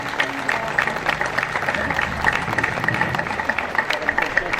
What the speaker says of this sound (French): Tous méritent à nouveau vos applaudissements.